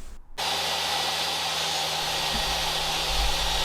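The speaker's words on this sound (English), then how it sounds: "With your router, route out a small little groove across the bottom of the fence." A router cuts a groove across the bottom of a plywood table saw sled fence, giving a steady, loud motor whine with cutting noise that starts abruptly after a brief quiet moment and holds for the rest of the clip.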